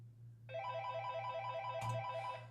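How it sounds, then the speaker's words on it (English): A telephone rings with an incoming call, a bright repeating electronic trill pulsing steadily for about two seconds against a low hum, with a brief click partway through. "Let's pick up the phone."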